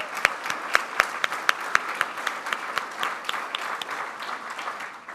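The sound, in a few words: audience applause for the mayor at a forum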